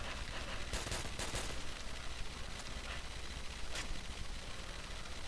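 Muffled bursts of carbine gunfire in the Call of Duty zombies map Nacht Der Untoten, a few quick shots standing out against a dense, constant wash of game noise, with no talk.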